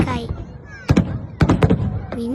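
Fireworks at the Tomonoura Bentenjima fireworks festival sound as a few separate booms, with voices heard around them.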